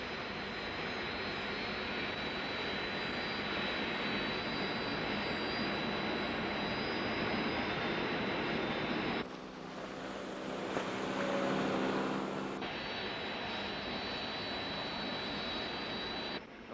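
Search aircraft jet engines roaring in flight in the Thunderbirds puppet series, a loud steady whine and rush holding throughout with a brief tonal shift midway, no voices.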